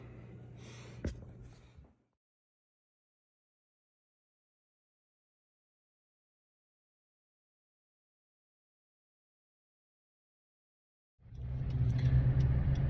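A car driving home from surgery, heard from inside as a low, steady engine and road rumble that rises in only near the end, after a long stretch of near silence.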